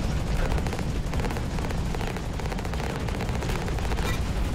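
Continuous heavy automatic gunfire from a turret in the mech combat video game Hawken, loud and dense throughout with sustained rapid bursts and booming impacts, no talking.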